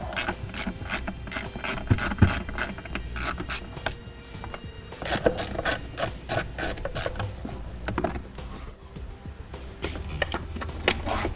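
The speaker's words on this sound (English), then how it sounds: "So we'll go ahead and loosen up our panel with these two screws right here." A hand ratchet loosens two screws on a plastic trim panel of a 2014 Mercedes during a trailer brake controller install, giving rapid clicking pawl bursts in several repeated runs, close and fairly loud with no talking.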